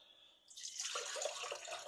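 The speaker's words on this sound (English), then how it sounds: "I take 2 cups of hot water," Hot water poured from a container for proofing yeast in pizza dough, a steady splashing pour starting after a brief pause and continuing close and moderately loud.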